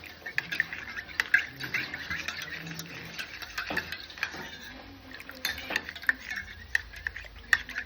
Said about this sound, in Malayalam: മഞ്ഞൾപ്പൊടിയും കൂടി ഇട്ട് ഇനി അത് നന്നായിട്ട് സ്പൂണിട്ട് മിക്സ് ചെയ്തെടുക്കണം